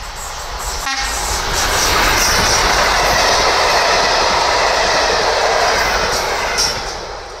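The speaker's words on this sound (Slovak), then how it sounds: "Ide vláčik." A train rumbles past close by, a steady loud roar with rhythmic wheel clatter swelling and then easing off as it moves away.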